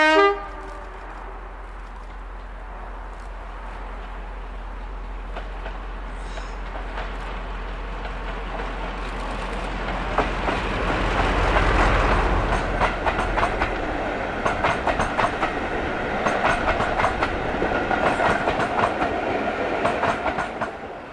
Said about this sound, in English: Class 35 Hymek D7017 as she heads the 1245 working from Leicester North to Loughborough Central